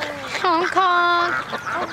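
A voice imitates honking with a few nasal, quacking honks, close and loud.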